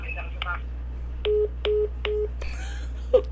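A phone is dialed to call someone back: three short, evenly spaced keypad beeps sound clearly, followed by a brief burst of noise and voice sounds.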